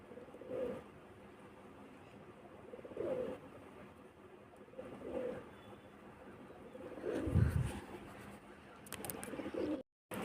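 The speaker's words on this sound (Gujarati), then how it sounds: "જો પક્ષીઓ કેવા કબૂતરા મસ્તીના સણે છે ને મોજ કરે છે" Pigeons cooing outdoors on a farm, several soft, low rounded coos repeating at a steady interval about every two seconds, with one louder burst near the end over faint background ambience.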